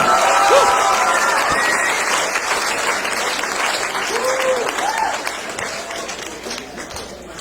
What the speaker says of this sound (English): Do me a favor, give it up for Mr. Jeff Hatch